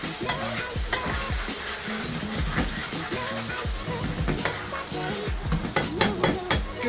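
Madras curry ingredients for a vegetable curry sizzle loudly in a hot pan over high heat while being stirred, with a steady frying hiss and repeated scraping and clinking of the utensil against the pan.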